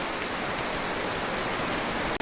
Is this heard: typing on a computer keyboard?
no